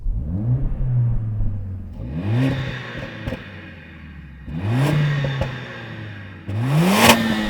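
Mercedes-AMG A45 S engine revving while stationary, rising in four loud sweeping blips that climb and fall back to idle, with a sharp pop at the end.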